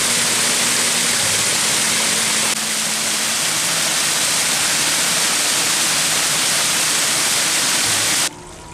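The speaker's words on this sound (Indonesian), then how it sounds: "Suaranya terdengar indah, berirama beraturan, mengikuti gemericik aliran air." Clear water from a spring flows down the slope of Bukit Surga hill in Bareng village, a steady, close, full rushing hiss with no voices until it cuts off near the end.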